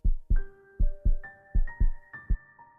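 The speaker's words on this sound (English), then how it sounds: "My heart pounding in my chest." A heavy heartbeat pounds in paired low thumps, a steady lub-dub repeating several times, with soft ringing tones sustained behind it.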